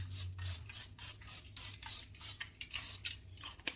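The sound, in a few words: spraying oil onto parchment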